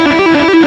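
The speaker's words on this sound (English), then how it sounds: "It's a classic stock speed lick and it sounds like this." Distorted electric guitar plays a quick blues rock speed lick, a fast run of bright, sustained notes, loud and close with no talk.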